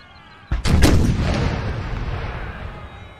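A single artillery cannon firing in the Napoleonic Total War 3 video game, with a sharp loud boom that rolls out into a long, fading rumble.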